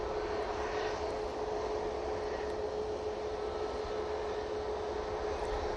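Ryanair airliner departing Manchester Airport, a steady distant engine roar with a faint sustained whine, even in level throughout.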